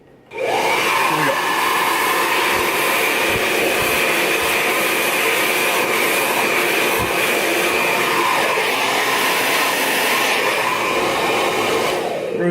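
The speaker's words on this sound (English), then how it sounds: "and then I take my blow dryer and hit the back" A handheld blow dryer roars loudly and steadily for about twelve seconds, switching on sharply at the start, as it dries the back of the hair over a brush.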